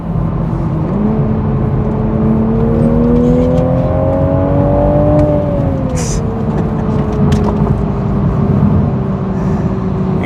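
Manual Toyota Supra with a 3.0 turbo engine driving, its steady close engine drone rising in pitch as it accelerates, then dropping sharply at a gear change before settling into a steady cruise.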